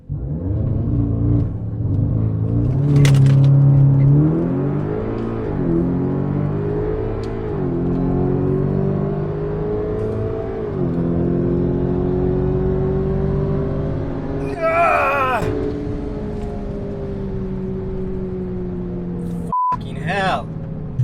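An Audi S3 8V pulling hard down a drag strip on a quarter-mile pass, the engine rising in pitch through several gear changes with loud, close turbo rumble and a brief electronic beep near the end.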